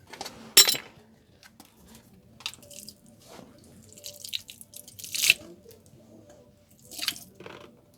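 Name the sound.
differential fluid draining from Ford F-150 differential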